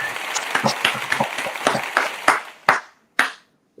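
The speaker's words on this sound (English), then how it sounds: "that deserves a round of applause" A small group claps in a short, lively round of applause during a football reaction show, the claps thinning out to a few final slaps before stopping.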